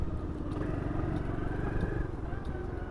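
A 2015 SYM Symba motorcycle engine idling and pulling at low revs, a steady close, rumbling putter with faint clatter running continuously throughout.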